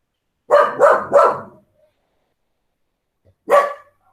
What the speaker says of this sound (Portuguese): Depois do latido comercial.